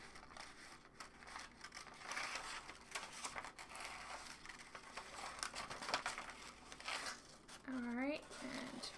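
Scissors cutting out paper hair for a superhero craft figure, producing close snipping and crinkling paper rustles under intermittent talking, with a short rising vocal squeal near the end.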